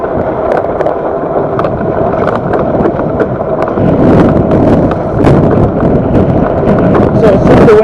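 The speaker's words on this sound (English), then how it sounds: "So it's super windy this morning" Strong wind buffets the microphone during a morning bike ride on a creaky aluminum Felt flat-bar bike, a steady loud roar with gusty swells and occasional rattling clicks throughout.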